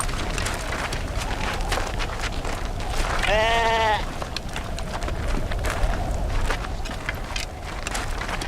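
Sheep bleat in a short burst of overlapping cries over a steady, noisy outdoor background as wolves attack the flock, the bleating rising loud for about a second mid-scene and then dropping back to a dull rumble.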